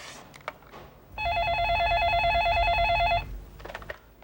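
A telephone rings indoors with a loud, sustained electronic warble lasting about two seconds, set between softer household noises before and after it.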